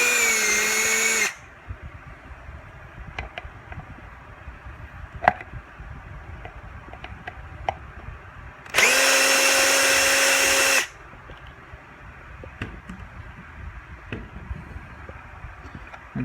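A power drill whirs loudly in two bursts while disassembling a Minn Kota trolling motor lower unit, a short one at the start and a longer one later, with quiet handling clicks between.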